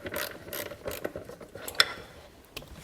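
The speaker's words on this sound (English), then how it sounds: "take a 10mm socket in my ratchet, and we've got 2 bolts to remove here" A ratchet with a 10mm socket loosens the EGR valve bolts on a Ford Escape 3.0L engine. It gives quick, soft clicking strokes in short irregular bursts, up close and with no talk.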